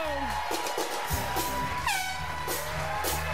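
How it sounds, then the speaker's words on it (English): A loud air horn blares over a noisy TV studio audience at the start of a race, with voices and music-like tones mixing in the background. "Sorry, the air horn was a little bit late"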